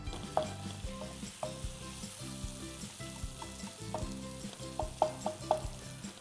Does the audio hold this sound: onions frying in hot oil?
yes